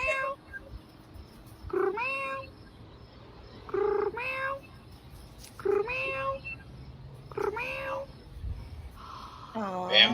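Kittens meow in short, rising cries at steady intervals of about two seconds, fairly close and clear over a low background hum, with a louder, busier burst of meowing at the very end.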